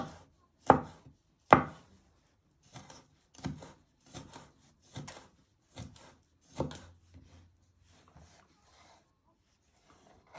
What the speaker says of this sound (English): And then we just finally dicing it into little pieces.